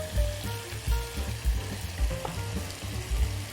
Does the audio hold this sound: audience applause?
no